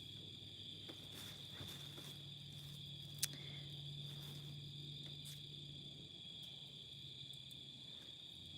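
Crickets chirp steadily in a high, continuous trill at night, with a single sharp click partway through and a faint low hum underneath.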